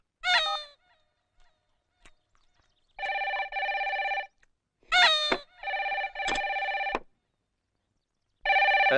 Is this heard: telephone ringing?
yes